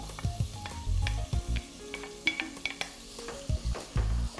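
Onion frying in a pan for a crab stew, with a soft sizzle under repeated stirring scrapes and spoon clanks in an uneven rhythm, close and without speech.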